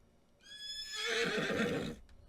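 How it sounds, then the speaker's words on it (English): A single horse whinnies in Farming Simulator 19, a loud, close, quavering neigh rising and then trailing off over about a second, alone without talking. "we're just going to check up on these horses here"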